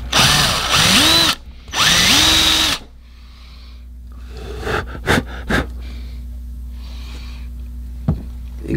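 A drill bores out a crack in a cylinder head in two loud, sustained bursts with a brief pause between, followed by quieter shop noise, a low steady hum and a few sharp knocks.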